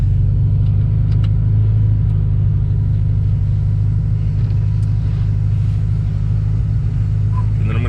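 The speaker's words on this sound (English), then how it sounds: "So I'm gonna give it some gas" A car engine idles, then is given some gas in -8 degree winter cold, a loud, steady low rumble that holds throughout with no sharp rev peaks.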